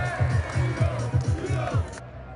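A crowd at Tottenham Hotspur's Europa League victory parade in London cheers and chants in a steady rhythmic pulse, with a voice talking over the noise until it cuts off.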